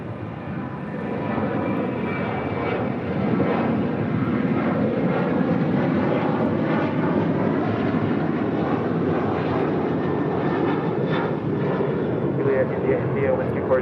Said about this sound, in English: Asiana, the A380 Super,